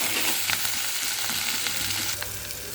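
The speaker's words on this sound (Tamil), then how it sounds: "இப்போ வெங்காயம் தக்காளி எல்லாம் ஒன்றா போட்டுடலாம்." Onion and tomato frying in oil with cinnamon and cloves for a mushroom gravy, a steady broadband sizzle with occasional stirring scrapes, close and continuous, no voices.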